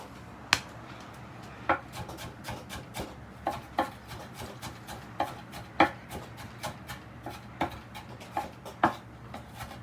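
Kitchen knife chopping onions on a board for Nepalese chicken momo filling, a series of irregular sharp close taps with brief pauses between strokes, alone with no talking.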